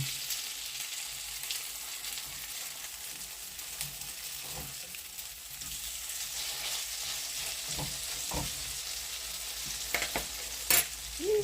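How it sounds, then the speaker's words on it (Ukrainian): Slices of eggplant fry in a pan of hot oil, a steady close sizzle with soft crackles and a few spatula scrapes and clinks as the pieces are turned and cooked through on the second side. "просмажується і з другої сторони до готовності баклажанів"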